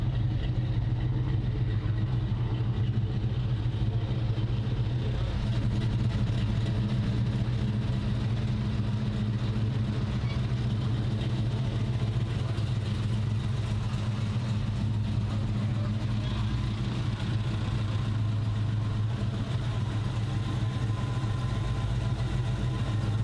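1970 Mercury Cougar Eliminator street rod engine idling at a car show, a steady low rumble at moderate distance continuing unbroken for over twenty seconds.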